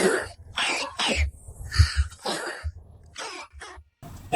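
A child coughs repeatedly in short harsh bursts, several close-spaced coughs with brief pauses between, loud and near, with no talking.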